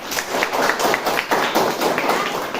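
A class of students claps together in a classroom. The clapping is steady and fairly rhythmic, with many hands close by, and a little murmuring underneath.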